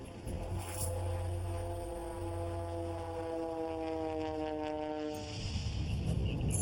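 A droning aircraft engine with steady rising tones, fairly loud and continuous, rougher noise building near the end.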